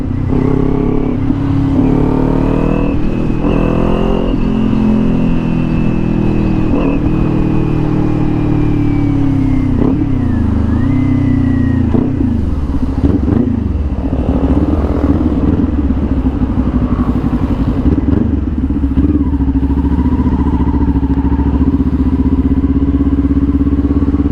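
Kawasaki Ninja 400 with a LeoVince LV-10 exhaust, not yet broken in, revving and pulling through the mid to high range on a road ride, a loud, continuous engine note that rises and falls with throttle, close up and alone.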